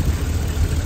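A GM 6-liter Vortec V8 in a 2014 Isuzu NPR box truck idles steadily with a smooth, low, even rumble, close and constant for a brief moment.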